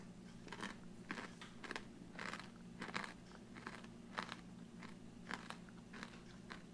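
Crunchy corn from a 2016 cold weather MRE (beef stew menu) chewed up close, with a run of irregular soft crunches and bites over several seconds, fairly quiet and without talk.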